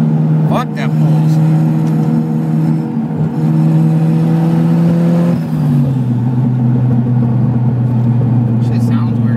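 A coupe's engine drones and revs as it pulls hard, its steady low tone stepping down in pitch partway through, with people talking in the cabin over it.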